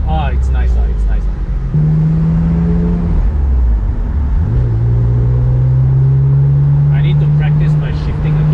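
A BMW M3 E46 Convertible's engine rumbles steadily and rises in pitch as it revs through gear shifts on an open road, with a constant low drone and wind noise throughout.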